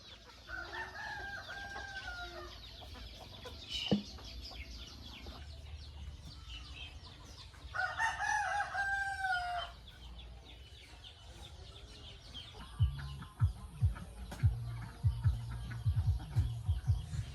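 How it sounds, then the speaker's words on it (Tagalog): Farm chickens cluck and a rooster crows at a Filipino plot where ube is being propagated, with two distinct crowing calls amid scattered clucks and rustling, and a few louder thumps near the end. "marami pong mga manok na nagkakaraykay"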